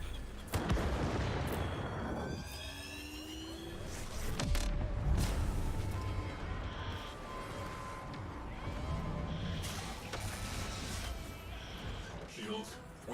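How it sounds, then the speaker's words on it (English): A ship in the game Warframe explodes under fire: heavy booming blasts and rumbling impacts with alarm tones and sweeping synthetic effects, someone talking over the loud mix. "Great, my ship is about to explode now."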